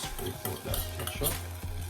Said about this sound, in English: Scrape out that ketchup.